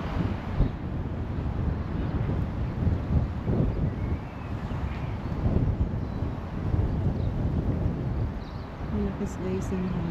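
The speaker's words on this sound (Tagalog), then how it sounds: "Malakas guys ang hangin." Gusty wind blasts across a handheld microphone outside a war memorial library in Hutt, New Zealand, making a steady low roar with pulsing bursts, and someone speaks through the noise.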